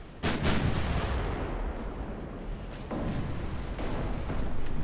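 Naval gunfire from warships and a heavy cruiser in Ultimate Admiral: Dreadnoughts: deep booming cannon shots, a few distinct blasts over a rumbling continuous battle din, loud and heavy.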